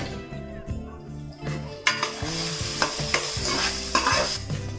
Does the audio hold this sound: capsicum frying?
yes